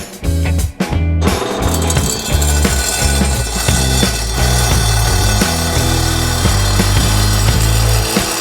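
A power saw cuts wooden pieces for a camper van base, its loud, steady buzzing drone running almost continuously after a short pause near the start, close by with no talk.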